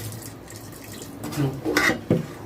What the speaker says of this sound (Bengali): আর একটু সামান্য জল দেব